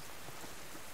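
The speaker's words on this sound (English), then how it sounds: "Of course, rain. It's just lovely." Steady rain in the survival video game Subsistence makes an even, continuous hiss with no breaks and no speech.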